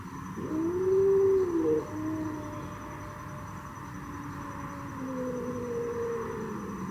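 A cat lets out a low, drawn-out growl that rises into a wavering moan, then continues as a quieter rumbling growl.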